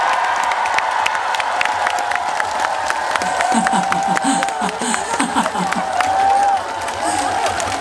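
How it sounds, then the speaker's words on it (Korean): Festival concert crowd applauding and cheering loudly and steadily throughout, with shouts and whoops rising from the audience. "큰 박수 한번 주세요"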